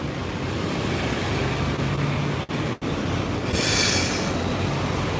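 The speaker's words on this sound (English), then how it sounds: "Here comes the tram." A Hong Kong tram rumbles past close by on its rails, a loud, continuous roll with a brief wheel squeal near the end. Street noise fills the background and no one speaks.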